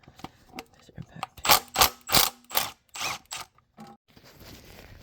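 An impact wrench rattles in several short, loud bursts while removing oil pan bolts from a B-series engine on an Acura Integra, with clicks and handling noises between the bursts.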